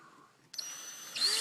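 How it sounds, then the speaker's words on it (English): A power drill bores out a tight screw hole through a liner while fitting a low-profile mount, starting abruptly midway with a steady whine that rises in pitch near the end, heard up close and alone. "what I do is I take the drill"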